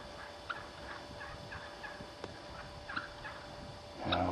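A wild turkey tom calls repeatedly from the woods, faint and distant clucks at loose intervals over a steady outdoor background, ending with a slightly louder rustle.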